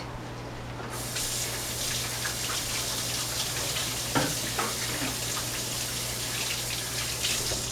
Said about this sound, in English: I'm going to wash my hands very quickly